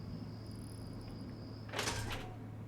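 A door to a stairwell slides open in a video game set in Rivet City, a short mechanical whoosh breaking in after a faint high electronic hum over a quiet background.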